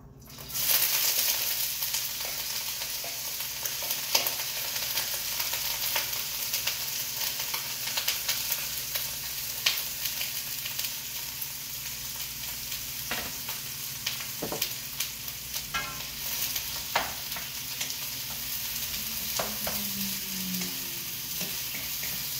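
Onion frying in a pan for beef liver with potato and onion, a steady close sizzle running throughout with occasional sharper crackles and light utensil scrapes, no voices.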